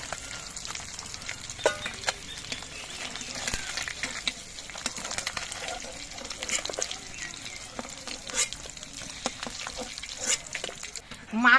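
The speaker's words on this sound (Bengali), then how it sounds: "এই তেলের মধ্যে দিয়ে আমি বেগুনগুলো ভেজে নিচ্ছি" Eggplant pieces fry in hot oil left in a wok after frying fish, giving a continuous close crackling sizzle with scattered sharper pops and spatters throughout.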